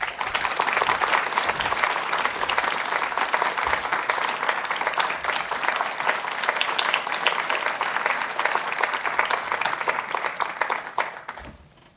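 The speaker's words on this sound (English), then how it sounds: "Let's have another round of applause for these great scholars." Loud, sustained applause from a large audience at a university award lecture, thick continuous clapping that fades out at the very end.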